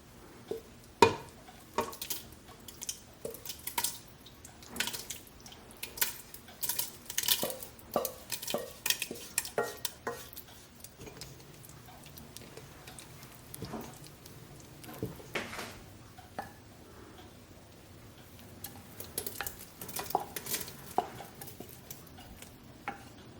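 Vegan chili with mushrooms and sweet potatoes cooking in a pot while a spoon stirs it, giving repeated close clinks and scrapes of utensil against pot over a soft simmer, with no talking.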